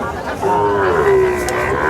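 A young Sahiwal calf at a cattle market gives one long, drawn-out moo close by, over faint background noise.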